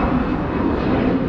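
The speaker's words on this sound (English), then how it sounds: "Just missed the plane taking off." An airplane takes off nearby, a loud, steady broadband engine roar that fills the whole short stretch without pause.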